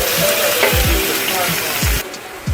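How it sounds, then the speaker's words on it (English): Jumbo shrimp sizzle loudly in hot olive oil in a pan, a steady broadband frying hiss with soft clinks and stirring bumps throughout, briefly quieting near the end. "we're gonna add some olive oil to the pan, and then we're gonna add all these shrimp"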